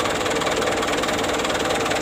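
A car engine idles with the radiator cap off during a coolant refill, giving a loud, steady close-up rumble with a slight knocking pulse and no speech.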